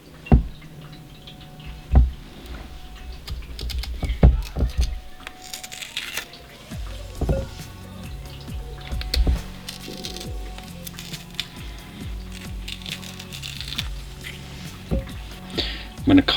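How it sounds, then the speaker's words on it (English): Small tools carve faces into rinsed raw potatoes, giving scattered scrapes, taps and wet squishy clicks, close and fairly quiet, with a voice talking at times in between. "I'm going to use some tools to basically carve some faces"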